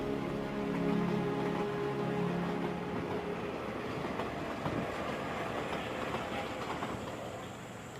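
The Desert Express passenger train rolls along the edge of the Kalahari Desert, a steady loud rumble of wheels on rails with clickety-clack and faint squeal, slowly easing in loudness.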